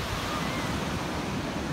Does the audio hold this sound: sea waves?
yes